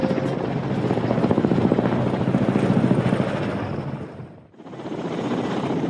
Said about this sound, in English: was turned into a new Ka-226 helicopter